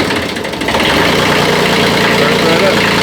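A Kubota B7100 tractor's diesel engine cranks and catches, then settles into a loud, steady, close idle with a rough mechanical clatter, with someone talking over it.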